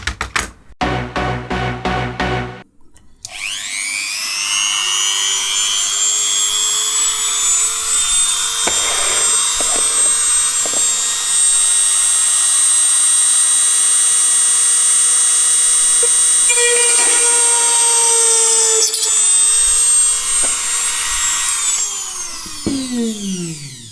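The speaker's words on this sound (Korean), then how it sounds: "원의 중심을 찾았으니까 여기를 구멍을 뚫어주기만 하면 될 것 같아요." A small rotary drill bores a roughly 2 mm pilot hole through the center of a disposable plastic camera lens, giving a steady high-pitched motor whine for about twenty seconds after a few brief startup bursts, then spinning down at the end.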